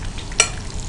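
Oil heating in a pan for Corn Manchurian sauce, a soft close frying hiss with one brief sharp tick or clink partway through and no voices.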